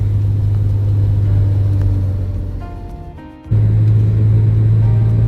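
Car cruising on a long drive home through Ohio, a loud steady low engine and road hum from inside the cabin that dips briefly with a short pause before the rumble resumes, no talking.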